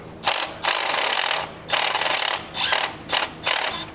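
Ratchet wrench loosening a titanium EGR cooler bolt on a Ford 6.7 diesel engine, a loud, close rapid clicking in five or six bursts separated by short pauses.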